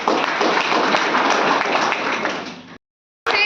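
A crowd claps steadily in welcome at a 12th-class school farewell party, a dense, loud wash of applause that stops abruptly before a burst resumes.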